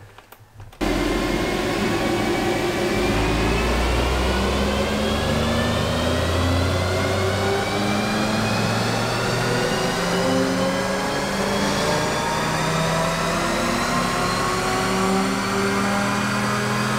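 A car engine revs flat out on a dyno, a loud, sustained climbing drone that starts abruptly after a moment of quiet and holds for the rest of the clip, the pitch rising steadily through the gears with no talk.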